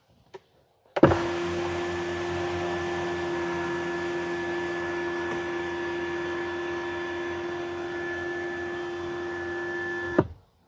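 Motor of a 2025 Tesla Model Y electric sunshade closing from the back seat: a steady electric whine with a tonal hum runs about nine seconds at close range, starting and stopping abruptly, with no talking.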